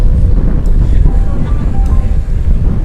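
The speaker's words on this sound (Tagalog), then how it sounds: "Lakas lang ng hangin." Strong wind on a mountain road buffeting the microphone with a constant low roar throughout, loud and close.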